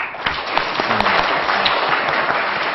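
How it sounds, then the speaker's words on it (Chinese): An audience at a Chinese hulusi invitational competition and lecture in Linyi applauds a singer with dense, sustained clapping, loud and close, filling the whole moment. "我们再一次把掌声送给张局"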